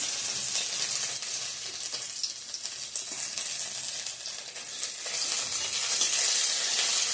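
Ginger frying in tempering oil for mung dal, a bright, close sizzle that rises and falls with stirring, sharp crackles scattered through and swelling louder near the end.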